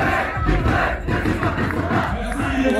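A large football crowd at a French cup match roars and cheers continuously, loud shouting voices blending into a dense, sustained wall of noise.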